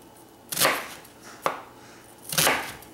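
An onion being cut into big pieces with a knife, three crisp chops in a few seconds. Each stroke is a short crunchy slice, heard close and alone with no talking.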